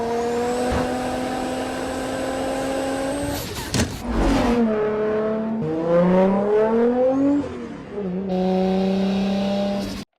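A single-turbo Toyota Supra revs its engine in a few rising and falling pulls, with a brief sharp burst near the middle. The loud pitch sweeps up and down, then drops back to a steady drone.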